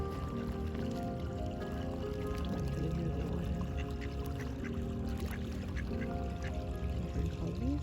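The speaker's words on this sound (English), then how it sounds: "You have so many different types of birds here." Ducks and geese call by the water in a free Maryland park, a steady mix of quacks and honks from several birds at moderate distance over constant background noise.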